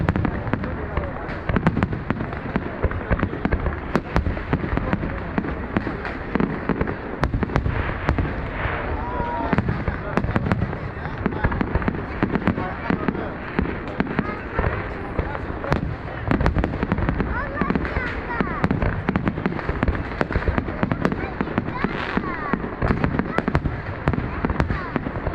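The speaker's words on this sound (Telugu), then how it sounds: "క్రాకర్స్ వర్క్ అయితే ఘోరంగా జరుగుతూ ఉంది." New Year fireworks in Azerbaijan pop and crackle in a dense, unbroken barrage for nearly half a minute. The bursts come fast and overlap at moderate distance, with crowd voices blending into the noise.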